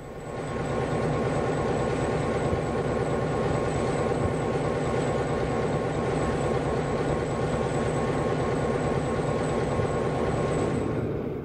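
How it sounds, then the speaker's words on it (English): Southern Railway diesel locomotives from the 1960s are switched into place for a night passenger departure, producing a loud, continuous engine drone and rumble that holds steady for over ten seconds. "Motive power is switched into place for the departure of that night's Tennessean."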